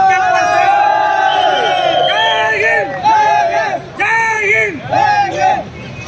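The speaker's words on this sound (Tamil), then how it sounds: "இந்த கைத்தட்டல்கள் அனைத்தும் உலக நாயகன் அவர்களுக்கு" A large, loud crowd cheers for actor Kamal Haasan, with dense whooping and shouting voices rising and falling over about six seconds with hardly a pause.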